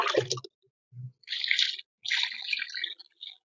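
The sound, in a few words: water draining through potted rose plant soil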